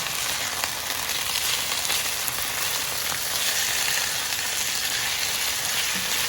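Chicken and potatoes fry in a pan with a steady, dense sizzle that holds evenly and fairly loud throughout, with no talking.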